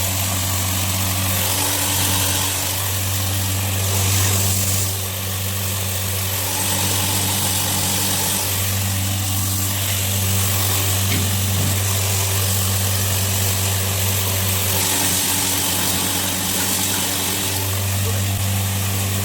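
Grain mill driven by a 4 kilowatt motor grinding wheat, a loud continuous droning hum with steady vibration and rushing noise throughout, with people talking faintly underneath.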